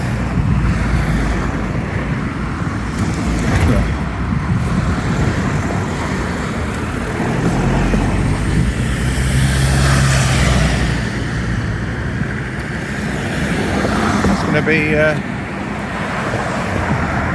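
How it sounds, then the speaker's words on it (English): Road traffic passes steadily on Reigate Road, a continuous loud roadway rumble with vehicles swelling and fading nearby, and a person talks over it at times. "There's a lot of traffic."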